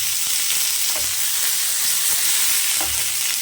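Small onions are sautéed in oil for mutton gravy, with a loud, continuous close-up sizzle and occasional stirring scrapes.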